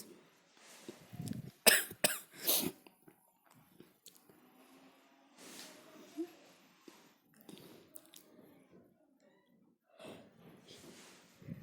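A burst of several harsh coughs near the start, brought on by cold winter air, followed by scattered throat noises and softer coughing amid quiet household sounds.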